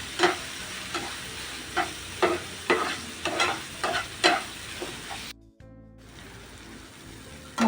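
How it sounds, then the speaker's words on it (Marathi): Spices and tomato fry in hot oil for cauliflower bhurji, stirred with regular scraping strokes about every half second over a steady sizzle, then a brief silence before the sizzle resumes alone. "आता आपण त्याच्यामध्ये मसाले घेतले आहेत ते पण टाकायचे आहेत व्यवस्थित मिक्स करून मसाल्यांना तेल सुटलं पाहिजे"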